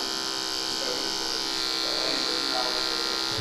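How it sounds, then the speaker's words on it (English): A hair clipper buzzes continuously and steadily up close while picking out a classic short men's haircut, a constant electric hum with slight shifts in tone as it works through the hair. "I'll use this clipper here, and I'll just kind of come in and just pick that out a little bit."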